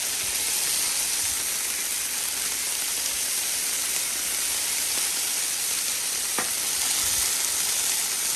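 Twelve hamburger patties, six sirloin steak tips and ten Johnsonville brats sizzle on a grill beside a semi truck, a close, dense, unbroken frying hiss with no talking.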